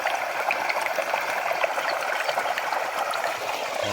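Irrigation water for an organic mung bean field runs and trickles in a constant, close stream, an even rushing flow with no talking.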